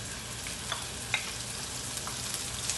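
Green hot peppers, ginger and garlic stir-frying in hot oil, a steady close sizzle with faint crackles and small pops throughout, no voices.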